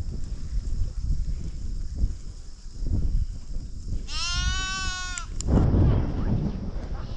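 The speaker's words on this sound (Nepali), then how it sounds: "भेडा र बाख्रा मित्र यता रहेछ नि भेडा बाख्राहरू" Sheep and goats give a single long, wavering bleat out in the open hills near Chitlang and Markhu, heard clearly over wind noise and rustling, with someone talking nearby.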